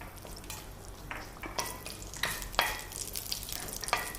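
Cumin seeds crackling and popping in hot oil, with a soft sizzle underneath and scattered sharp pops, fairly quiet and close.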